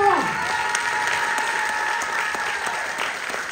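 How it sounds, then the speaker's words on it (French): A cabaret audience gives a magician an ovation, with dense clapping holding steady throughout while a faint tonal hum lingers in the background. "Donc on peut lui réserver un tonnerre d'applaudissements pour Florent."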